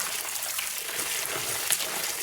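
Creek water in a rural stream trickles and flows steadily, a continuous soft gurgling wash with no voices, moderately near and even throughout.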